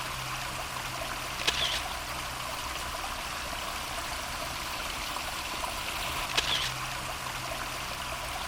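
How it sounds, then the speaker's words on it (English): Steady, close rush of water trickling through a creek bed and spilling over a beaver dam, continuous and even, with two brief camera shutter clicks several seconds apart. "there's a little section of flowing water in the creek bed, and there's a couple of little spillovers of water on the beaver dam itself"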